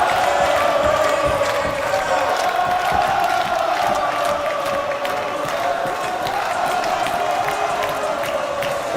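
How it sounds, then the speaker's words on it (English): Crowd at a college men's basketball game in a gym, Yeshiva Macs versus Saint Joseph Blue Jays, during a timeout, a loud, sustained roar of cheering and shouting with scattered whoops throughout. "And listen to this crowd go."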